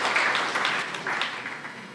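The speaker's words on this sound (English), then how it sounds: "Please give them a round of applause." Audience applause at a pageant introduction night, a steady wash of many hands clapping at moderate volume that fades slightly toward the end, with no voices over it.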